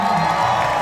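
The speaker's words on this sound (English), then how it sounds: "North side, cheer him on." A crowd cheers and whoops at a horseshoe contest during the Dolly Parton Stampede dinner show in Pigeon Forge, Tennessee. The sound is a loud, sustained roar of many voices that fills the whole short moment.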